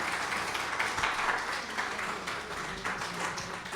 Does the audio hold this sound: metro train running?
no